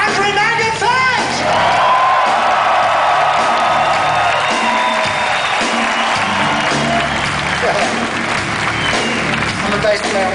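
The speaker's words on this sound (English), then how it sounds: "So once again, an applause, a big hand for Andre Magenfeld!" A large concert crowd in Mexico cheers, whoops and applauds for a bass player, loud and continuous, with shouts rising above dense clapping.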